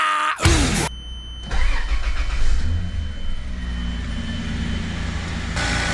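Toyota Land Cruiser 80 Series engine cranking and catching, a brief starter whir followed by the engine firing and settling into a steady, close idle.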